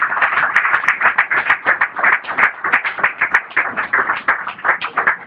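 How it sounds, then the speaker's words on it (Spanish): A church congregation claps together in a fast, steady rhythm. The many hands make a dense, close run of claps that lasts the whole stretch without a break. "dele palmas al Señor"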